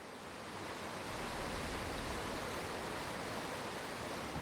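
Waterfall in the video game Outer Wilds, a steady, dense rush of falling water that holds at an even, moderately quiet level throughout with no voices.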